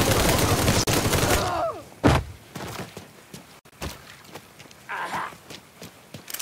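Gunfire erupts in the crime action game Mafia III: a loud, close burst of shots opens, followed by scattered single cracks, thuds and footsteps amid the noisy game action.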